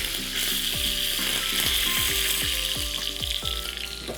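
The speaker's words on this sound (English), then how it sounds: "Just let the mustard splutter, and we add a sprig of Kadi patta." Mustard seeds splutter in hot oil for a tadka, giving a constant sizzle under a run of sharp pops and crackles, with the pan stirred from time to time.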